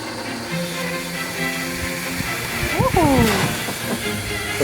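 The historic Bożek steam vehicle sets off with a continuous broad hiss of steam, joined by rising whistle-like tones and mechanical clanks, while someone speaks over the noise.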